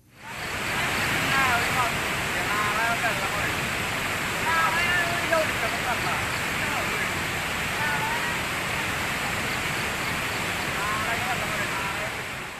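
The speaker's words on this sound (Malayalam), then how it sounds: "കുത്തിയൊഴുകുന്ന ചാലക്കുടി പുഴയിൽ കണ്ണൻകുഴി പാലത്തിന് താഴെ രാവിലെ 6 മണിയോടെയാണ് കാട്ടാനയെ നാട്ടുകാർ കണ്ടത്." Floodwater of the Chalakudy river rushing steadily under the Kannankuzhi bridge at Pillappara, a dense continuous roar that stays loud and unbroken from start to finish.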